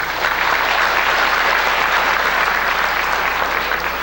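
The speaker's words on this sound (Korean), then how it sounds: "박수 부탁드리겠습니다" Audience at a Korean public hearing on pharmacists' herbal medicine dispensing and Korean-Western medical cooperation bursts into steady, dense applause, loud and sustained throughout with no break.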